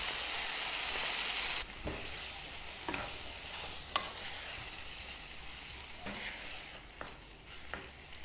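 Tomatoes fry with ginger garlic paste in a pan for matar paneer, giving a steady close sizzle, louder for the first moment and then settling, with several sharp spoon clicks against the pan as it is stirred.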